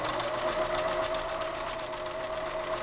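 A sewing machine stitches the raw-edge perimeter of a pillowcase, running steadily and close-up with a fast, even buzzing hum and no pauses or voices.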